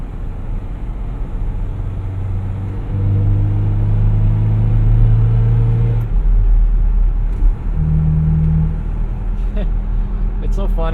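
A 1987 Toyota Xtracab 4x4 pickup truck drives at low speed, its engine a steady low rumble with a few rises in revs as gears change, heard from inside the cab under a person talking.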